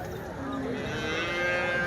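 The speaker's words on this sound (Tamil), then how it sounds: "இதெல்லாம் வந்து நல்ல ஒரு கரவை திறன் உள்ள மாடுகள்" Cattle at a market in Erode district give a long, drawn-out moo, loud and close, set against steady crowd and market bustle.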